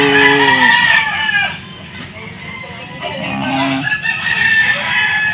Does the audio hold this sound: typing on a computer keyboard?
no